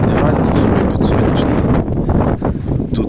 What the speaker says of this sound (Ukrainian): Що вітер задуває, вибачайте.